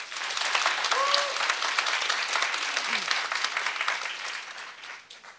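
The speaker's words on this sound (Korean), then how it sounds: "자 박수 한 번만 부탁드릴게요" Audience applause at a university-life talk concert, a dense, steady wash of many hands clapping that fills the room, with a few voices calling out briefly through it before it tapers near the end.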